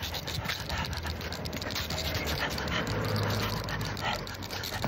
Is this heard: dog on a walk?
yes